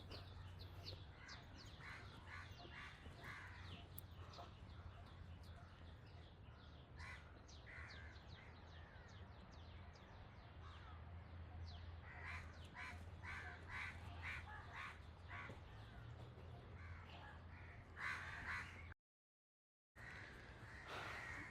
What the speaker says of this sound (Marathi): इथे जे आवाज येत आहेत पक्षी आहेत